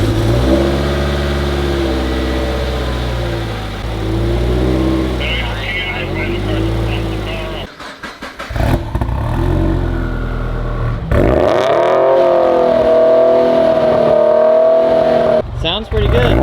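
A turbocharged Scion FR-S at its first start after sitting abandoned revs repeatedly, a rough droning idle climbing into sharp, loud blips, with people talking nearby over the engine.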